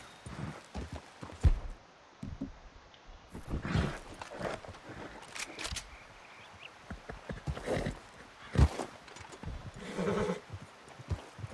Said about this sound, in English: my horse needs to slow down or he's gonna run out of energy